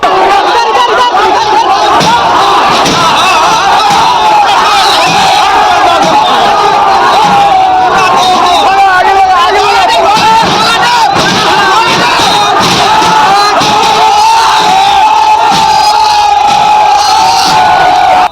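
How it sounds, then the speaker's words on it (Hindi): Crowd shouting and cheering while vandals smash tin sheds in Mathura, a loud continuous roar of many voices yelling and egging each other on, with chatter mixed in throughout. "एक टीन शेड गिरता है तो भीड़ दूसरा टीन शेड तोड़ने के लिए उकसाती है।"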